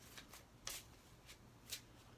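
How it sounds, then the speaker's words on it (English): Tarot cards being shuffled by hand in several short, separate riffling bursts, quiet and close, with no voice over them. "if I look down, it's because I'm shuffling the cards"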